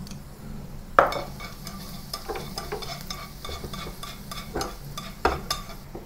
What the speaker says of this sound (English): Saute some chopped garlic with some oil in a pan.